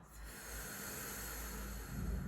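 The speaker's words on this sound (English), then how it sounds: "exhale through the mouth" A long, steady breath goes out through the mouth during a chair Pilates exercise, a close, airy rush that holds even and swells a little at the end.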